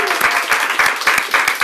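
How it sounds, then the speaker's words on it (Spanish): A studio audience breaks into steady, dense applause on a Spanish-language talk show set, with rhythmic clapping bursts rising and falling for the whole short stretch, loud and close, with no talk over it. "¡Denle un aplauso, señores!"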